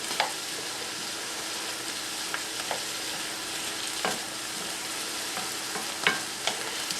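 Onions sizzle softly in a pot on the stove, a quiet, steady frying hiss broken by occasional light clicks and scrapes of stirring, with no talking.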